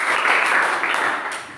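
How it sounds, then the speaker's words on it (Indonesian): Schoolchildren in a junior high classroom clapping for a classmate, a short burst of dense applause that tapers off toward the end. "tepuk tangan buat teman kalian"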